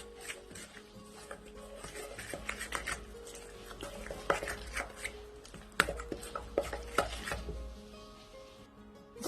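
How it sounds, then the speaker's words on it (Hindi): Spices and a teaspoon of kasuri methi being mixed for a rohu fish fry marinade, with scraping, stirring and clinking in a bowl coming in irregular bursts close up. "इन तमाम चीज़ों को मैं मिक्स करूंगी।"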